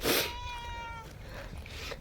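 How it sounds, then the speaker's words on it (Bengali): A hungry cat gives a single clear, drawn-out meow close by, preceded by a short rustle and followed by quiet room noise. "আমার পিছন পিছন হাঁটছে আর ম্যাও ম্যাও করছে"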